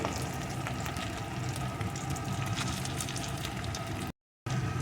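Chopped tomato and crushed ginger fry together in a pan for an egg and potato dal, producing a loud, steady sizzle with a faint bubbling undertone that continues evenly, then cuts out briefly near the end, with no talk.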